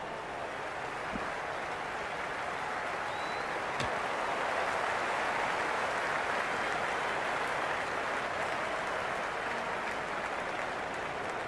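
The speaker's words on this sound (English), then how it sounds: "It's evident and ever so audible that the crowd is at near bursting point at today's play." In the video game Cricket 26, a stadium crowd at an IPL match between LSG and DC roars in a dense, unbroken wall of cheering and clapping. It stays loud and constant throughout, with no distinct voices standing out.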